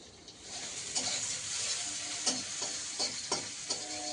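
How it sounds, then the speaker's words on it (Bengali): Ginger garlic paste frying in hot oil in a pan, a steady close sizzle with soft scraping stir strokes at irregular intervals, no voices over it. "আর একটু আদা রসুন বেটে নিয়েছি তেলে দিয়ে দিয়েছি"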